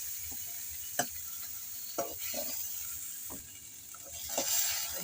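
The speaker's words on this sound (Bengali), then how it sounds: "তেলটা গরম হলে এখানে জলকীয়া পেঁয়াজ দিয়ে দিম" Jolokia chilli and onion fry in hot mustard oil with a steady close sizzle, broken by a few sharp clicks and scrapes of stirring. No one speaks.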